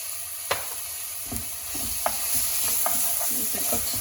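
Ajwain seeds frying in oil in a pan give a steady sizzle, broken by several sharp scraping clicks as a spoon stirs them.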